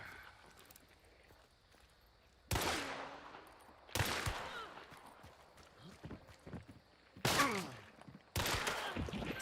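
Gunfire in Escape from Tarkov: several sharp, loud shots ring out at irregular intervals, each with a ringing tail, over quieter background game sounds and some talk.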